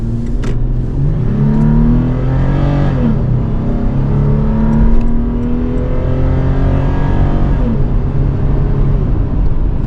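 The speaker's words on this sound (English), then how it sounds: "Very little engine noise from that 4-liter V6." A 2023 Toyota 4Runner's 4-liter V6 engine hums steadily from inside the cabin, rising gently as it accelerates, with a low, smooth drone and road noise throughout.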